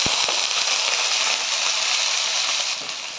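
Chopped onions hit hot oil in a pan while lentil dal with vegetables is being made, giving a steady, bright sizzling crackle close by. A couple of sharp pops come at the start, then the frying hiss continues alone.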